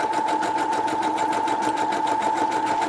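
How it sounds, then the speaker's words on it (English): A sewing machine stitches nonstop at a fast, even pace, its rapid mechanical whir and clatter close and steady throughout, with no talking. "let me sew this real quick."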